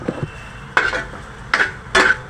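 Cauliflower and potato vegetable with fresh coconut being mixed in a pan, three or four sharp close spoon scrapes and clatters against the metal, with little sizzle and no voices.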